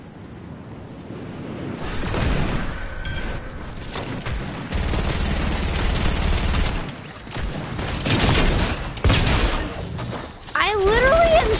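Scoped revolver shots in the Roblox shooter Arsenal, sharp bursts mixed into chaotic game combat noise with a person talking over much of it.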